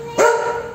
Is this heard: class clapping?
no